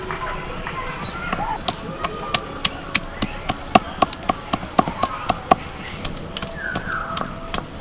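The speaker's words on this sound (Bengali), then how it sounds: "এই আদা রসুনটা একটু বেটে নেবো।" Ginger and garlic pounded and ground on a grinding stone make a run of sharp, rhythmic knocks of around a dozen strikes, close and clear, with some background voices.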